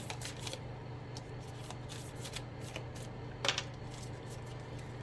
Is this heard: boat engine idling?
no